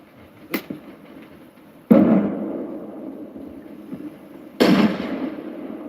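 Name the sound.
grenade explosion in Arma Reforger video game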